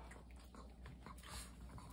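A puppy whimpering indoors, faint, thin whining sounds over a steady background hiss.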